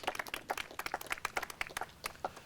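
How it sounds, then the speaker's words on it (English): An audience at a mural reveal on Pontiac Field claps, a scattered round of individual hand claps at moderate distance, fairly light and uneven rather than a dense ovation. "Let's have a round of applause."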